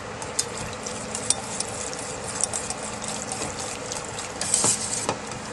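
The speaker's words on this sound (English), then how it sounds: "Mix that up with your flour and your onions." Egg foo young batter of egg, broth, flour and onions being stirred in a bowl, a soft wet scraping and sloshing with light clicks of the utensil, steady and close, no talking.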